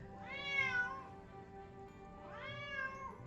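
A cat meows twice, close and clear, each cry a long rising and falling wail, with a short quiet gap between them.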